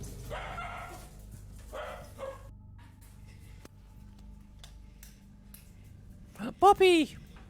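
After some scattered talking, a dog lets out a quick run of three or four sharp, high yips and barks nearby.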